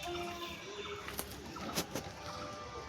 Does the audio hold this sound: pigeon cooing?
yes